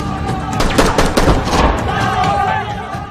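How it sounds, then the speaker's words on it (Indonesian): Bursts of gunfire from a shootout in an action film about a special forces unit fighting terrorists, rapid overlapping shots packed into a few seconds, loud and dense over a busy soundtrack. "Ramal harus baku tembak dengan Mustafa dan Sulikah"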